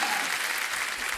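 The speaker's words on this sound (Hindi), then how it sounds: "तालियां बनती हैं इनकी फिटनेस पे।" A studio audience at a comedy show breaks into dense, sustained applause, loud and continuous throughout, with no voices standing out.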